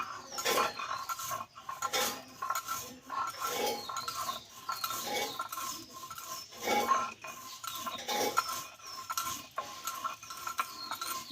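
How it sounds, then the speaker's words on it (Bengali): Roasted cumin seeds ground by hand on a stone grinding slab, giving repeated gritty scraping and rubbing strokes in an uneven rhythm, close and moderately loud, with no talking. "এই জিরিটা একটু আমি গুঁড়ো করে নেব শিলে"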